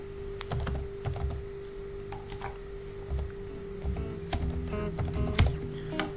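A computer keyboard clatters as a search term is typed in bursts of quick key presses with short pauses, close and clear over a steady electrical hum.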